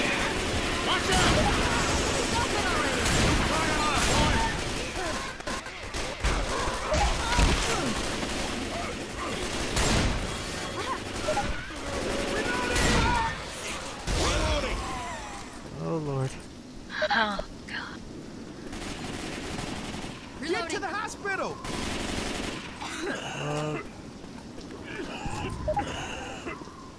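Left 4 Dead 2 gunfire during a sewer run in the No Mercy campaign, dense bursts of shots and rapid volleys cracking loudly throughout, with excited players talking and shouting over the shooting.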